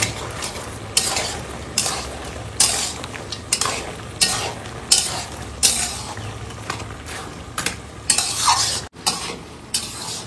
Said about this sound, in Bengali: এবার নাড়া দিই।